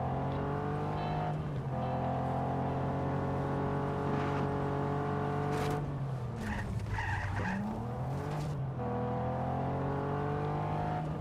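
A wheeled tank drives in the video game Just Cause 3 with a loud, continuous engine drone that rises and falls in pitch, broken midway by a burst of tire skidding and squealing.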